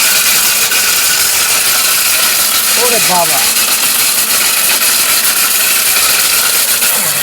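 A 1200-watt mixer grinder blends turmeric into powder with a loud, steady motor whine and rattle. A man exclaims briefly partway through.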